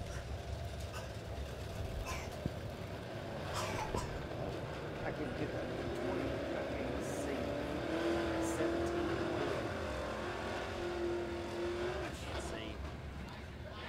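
Dirt-track race cars circle Springfield Raceway ahead of the green flag in a Superdirt Series heat race. Their engines form a distant, steady drone with a faint rising tone, all under crowd and arena noise.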